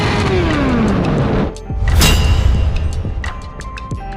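Kawasaki H2 SX SE supercharged motorcycle passes nearby, its engine roar swelling and fading with a rising and falling whine threaded through the exhaust note, loud and close.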